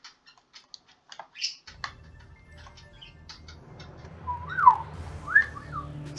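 Pet bird in the video game Wizard of Legend chirping in a few short, bright warbling calls near the end, over soft clicking game sounds and a low hum.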